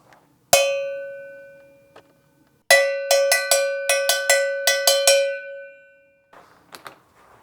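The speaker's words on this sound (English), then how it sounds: "Cowbell?" A cowbell is struck inside a SONOpan soundproof booth: one ringing hit, a pause, then a quick run of about eight bright clanging strikes with a long metallic decay, followed by faint muffled sounds.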